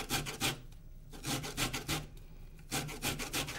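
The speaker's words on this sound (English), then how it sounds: "peel half of the orange and zest the remaining half of the orange" Orange peel rasped against a fine zester for a tart filling, heard as close, steady scraping strokes in quick bursts with short pauses between them, with no voices.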